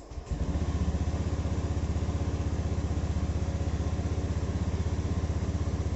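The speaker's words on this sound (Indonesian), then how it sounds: "di starter hidup motornya." A Honda Beat scooter engine fires up on the electric starter and settles into a steady, close, rapidly pulsing idle that runs on alone.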